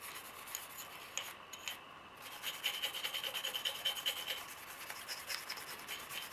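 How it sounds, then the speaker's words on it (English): A brush scrubs the inside of a gun's magazine well clean of dust and dirt, making close, steady rasping strokes that turn into a quick rhythmic scrub in the middle, with no voices. "Give the magazine well a good scrub."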